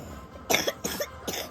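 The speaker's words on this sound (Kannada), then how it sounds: "ಕೆಮ್ಮು ಗೈಸ್, ಎಲ್ಲರೂ ವೆದರ್ ಸರಿ ಇಲ್ಲ." Three short, close coughs come in quick succession, each a brief harsh burst with a little throat noise between them.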